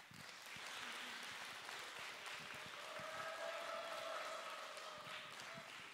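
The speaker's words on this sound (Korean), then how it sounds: "이렇게 열렬한 박수로 이렇게 맞아주셔서 더 감사드립니다" Warm, sustained applause from a school concert audience welcoming the principal at a girls' high school music recital, steady and fairly distant across six seconds, with a faint voice beneath.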